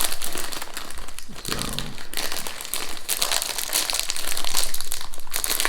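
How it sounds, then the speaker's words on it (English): A bag of salt and vinegar Hula Hoops crisps is opened and handled, continuous close crinkling and crumpling of the packet with sharper crunchy rustles throughout. "I should stop and open another bag"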